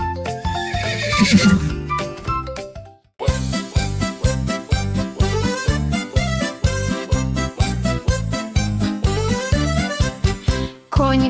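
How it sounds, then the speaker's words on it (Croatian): A farm horse whinnies with a wavering call over the first few seconds, then a steady clip-clop of hooves runs in a bouncy rhythm under a loud, upbeat children's song melody. "To je konj."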